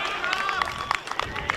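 Light applause and scattered clapping from a crowd at a local Australian rules football match after a goal kick, with a commentator talking over it.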